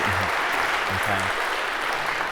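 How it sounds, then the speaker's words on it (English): Lecture-hall audience applause for a student finding the number in a search demonstration: steady, continuous clapping throughout, with a low voice murmuring briefly beneath it. "And a round of applause, if we could, for finding the number."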